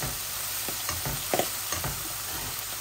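Rohu fish pieces fry in a pan for rohu do-pyaza with a constant close sizzle, dotted with a few soft clicks and scrapes.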